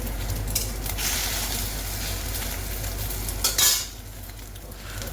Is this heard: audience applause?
no